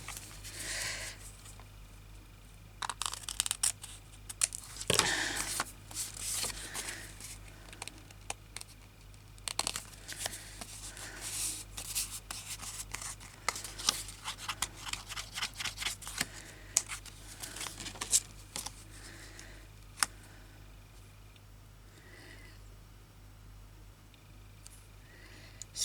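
Scissors snip paper while nature journal pages are trimmed to remove a small tear, with quiet crisp cuts and crinkling handled close by, and paper rustling between snips, no one speaking.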